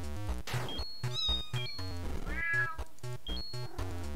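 A cat meows repeatedly at close range, several drawn-out, rising and falling calls with short gaps between them, set over rhythmic music in the background.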